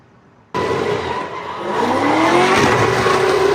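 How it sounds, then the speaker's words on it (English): Cars revving hard and spinning with squealing tires at a nighttime street takeover, a loud continuous engine roar rising in pitch with tire screech sustained throughout. "Engines revving, vehicles spinning, rubber burning, fireworks exploding."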